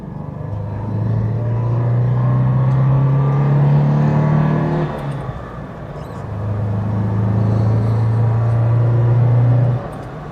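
Water-cooled 1.2 engine of an Alfa Romeo Alfasud heard from inside while driving, a steady low drone that climbs in pitch through a gear, dips briefly at a change, then pulls up again.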